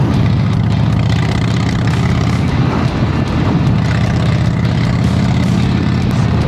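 A Harley-Davidson Dyna motorcycle engine idles nearby, giving off a steady, throbbing low rumble that runs evenly throughout.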